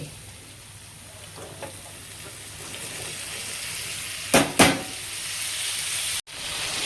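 Cowpea pods go into hot oil tempering and crackle into a steady sizzle, with a couple of sharp bursts of spitting midway, loud and close, no talking.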